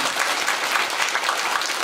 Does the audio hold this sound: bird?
no